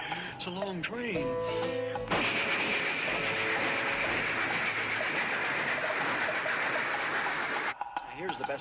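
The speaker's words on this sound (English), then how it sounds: "It's a long train." Long steam train rolling past with a dense, steady roar and rumble lasting several seconds, loud and close, with a whistle-like tonal sound before and after and a voice talking over it.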